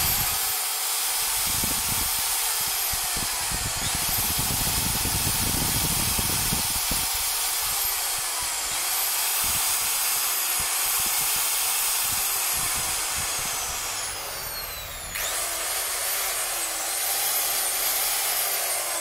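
Makita power tool motor running steadily after being plugged in, a smooth, loud, continuous whine with a broad hiss that dips briefly and then resumes, close by.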